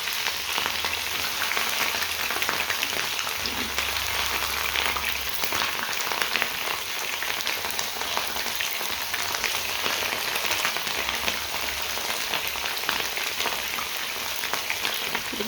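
Mushrooms fry in hot oil, a steady, even sizzle that carries on unbroken and fairly soft, with no voices over it.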